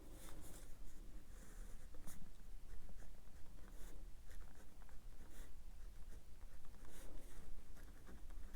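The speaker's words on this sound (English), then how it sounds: "And then I write each day of the week." A pen scratches steadily across a bullet journal page while writing days of the week, producing close, continuous scribbling strokes with brief pauses between words and no voices.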